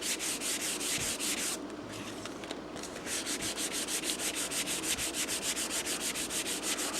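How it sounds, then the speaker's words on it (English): Steady abrasive rasp of a belt sander smoothing a piece of wood, a continuous gritty whir with a brief lighter-pressure dip midway, with no talk. "And then I'll get the last little bit of this off over at the belt sander."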